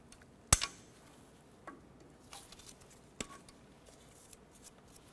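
One sharp, close snip of cutters trimming the excess end of a cotter pin on a front upper ball joint of a 1993-1997 Ford Ranger, followed by a few faint taps and ticks in a quiet workshop.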